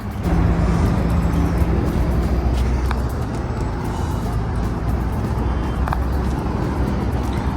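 Highway traffic in Kuwait at night rolls past in a dense, continuous roar of cars and heavier vehicles, heard from inside a moving vehicle.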